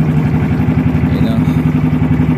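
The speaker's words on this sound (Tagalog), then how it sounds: "Pero pag ganitong kaliit sa sinakyan namin, ano lang to, makina ng TMX motor" Small TMX motorcycle engine powering a small boat, running steadily with a loud, rhythmic low chugging throughout, close by, with voices in the background.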